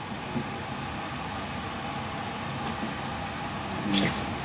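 Filtered water pours steadily for cooking rice, a continuous close trickle and splash with no talk.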